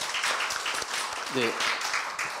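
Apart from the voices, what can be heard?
audience applause welcoming the speaker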